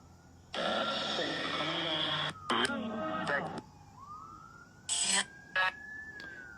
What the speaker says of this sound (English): Okay, hear that siren?